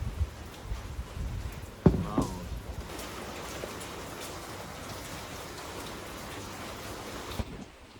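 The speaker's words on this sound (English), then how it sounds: "The rain outside was getting heavier" Heavy rain falling outside on a rainy day in China, a steady dense hiss of drops with a few nearby knocks and splashes early on.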